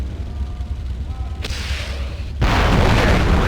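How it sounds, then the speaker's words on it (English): A rocket launched at a tank in the game Conflict: Desert Storm 2 bursts out as a sharp crack, and a heavy, sustained roaring boom follows, loud and close. "Now launch your rocket at the tank."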